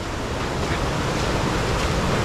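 A fast-running river at Fatherford on Dartmoor, England, makes a loud, continuous broadband rush of water that stays steady and close, with no voices.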